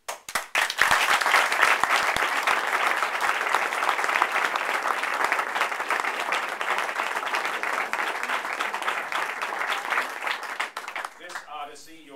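An audience applauds to welcome the incoming class of a drama school: loud, dense clapping bursts in and holds steady for several seconds, then thins out and stops as a voice begins speaking.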